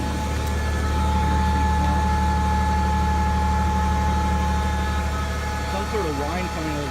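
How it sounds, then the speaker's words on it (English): A 2007 Toyota Tacoma idles on a cold start, its exhaust giving a steady, close, continuous rumble with a thin tonal whine running over it throughout. "Some sort of whine coming out of the exhaust."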